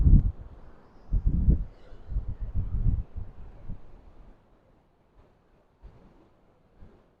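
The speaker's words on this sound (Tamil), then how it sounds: "நல்லா காற்றடிக்குது" Gusty wind buffets the microphone in low, rumbling bursts on a hotel terrace in Galle, Sri Lanka, strongest at first, then dying down to near quiet with occasional faint gusts.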